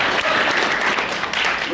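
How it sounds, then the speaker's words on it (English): Audience applause at a political caucus meeting in Duluth, a steady dense wash of clapping throughout with a voice faintly mixed in. "that's worth the clap, right?"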